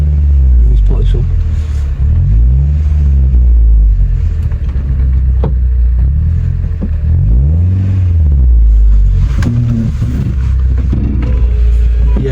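A Toyota Auris SR's engine rumbles loudly and continuously at close range, with its pitch rising and falling in slow swells as it is revved.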